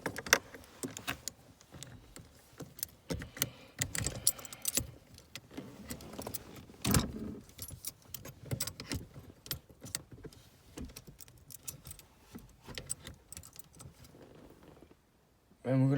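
Hand tools tightening bolts on the shifter of a 2006-11 eighth-generation Honda Civic Si, giving close, irregular metallic clinks, rattles and ratchet clicks; a voice cuts in at the very end.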